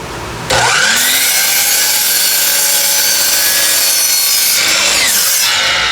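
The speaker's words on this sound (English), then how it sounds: "We're going to start with our saw set at 17 degrees and we're going to miter one end of it" A power saw mitering an 18-inch oak board at 17 degrees: the blade spins up, bites into the wood with a loud, steady high-pitched cutting whine for about four seconds, then winds down.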